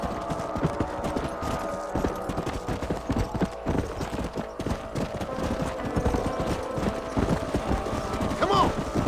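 Horse hooves clip-clop steadily on the ground in the Red Dead Redemption video game, a continuous close rhythmic patter under game ambience with an occasional whinny near the end.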